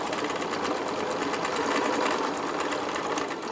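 A sewing machine backstitches fabric for a cloth toiletry bag, running in a fast, continuous mechanical whir with a rapid needle rhythm, close and steady for a few seconds.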